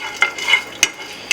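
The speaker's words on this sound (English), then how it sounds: "And now the masala is kind of sizzling." Masala sizzles in a teaspoon of ghee in a pan for Punjabi dhaba-style chicken, a soft steady frying hiss broken by a few sharp spoon scrapes and taps, close by with no talking.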